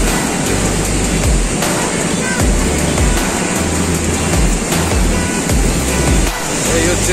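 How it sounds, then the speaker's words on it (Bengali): Water rushing down a waterfall below Maithon Dam, a steady loud broadband roar of flowing water close by, with low engine-like rumbling underneath and no talk. "এই হচ্ছে জল উপর থেকে বয়ে আসছে।"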